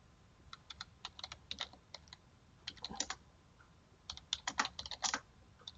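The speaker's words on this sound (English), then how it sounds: "I'm going to begin by typing" Quick bursts of keystrokes on a computer keyboard, close and crisp, coming in irregular clusters with short pauses between them.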